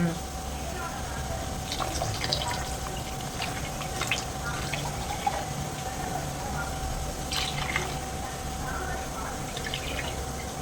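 Water is poured and splashes in a home kitchen while dishes are washed during cooking, with soft trickles and drips and a person talking over it throughout.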